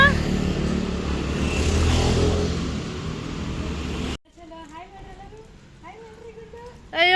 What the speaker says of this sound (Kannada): ಅಯ್ಯೋ ಗಾಡಿ ಬರ್ತೈತೆ.